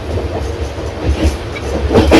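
A passenger train runs on rails near Bantwal station with a loud, close, steady rumble and rhythmic clickety-clack of wheels over the track joints throughout.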